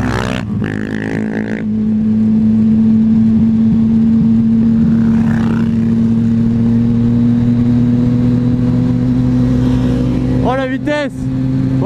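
A supermoto motorcycle ridden on a beach gives a loud, steady engine drone with wind rush over it. Brief voices or squeaks cut in near the start and toward the end.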